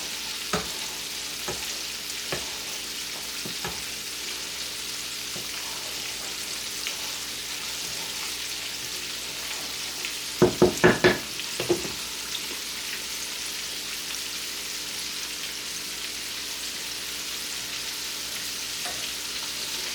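Chicken frying in oil on high heat gives a continuous hiss and crackle that stays steady throughout, with a short cluster of sharper pops or spatters partway through and no voices.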